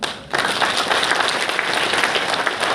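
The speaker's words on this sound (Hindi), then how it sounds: "एक बार जोरदार तालियां मारना" A seated audience at a motivational talk breaks into loud, dense applause after a brief quiet moment, the clapping sustained and close for the rest of the moment.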